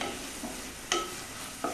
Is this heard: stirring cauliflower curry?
yes